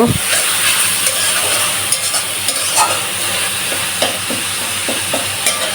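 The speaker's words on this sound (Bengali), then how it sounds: "মশলাটা একটু ভালো করে কষিয়ে নিচ্ছি" A spice paste sautés in a pan for a jackfruit dish, giving a loud, steady sizzle broken by repeated scraping stirs of a spoon, close up and without talk.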